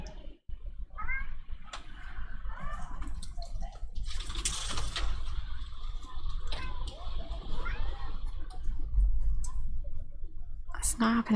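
A persistent house cat meows repeatedly by a door it keeps trying to open, short wavering cries scattered under ongoing whispery room noise, with a person talking at times.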